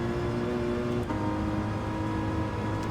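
A car engine in Gran Turismo 7 held on throttle, a loud, steady engine drone with a brief dip in pitch partway through, then continuing evenly without speech.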